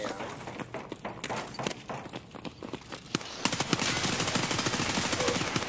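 Gunfire in the shooter game Escape from Tarkov: scattered single shots at first, then a fast sustained automatic burst, loud and sharp against background game noise.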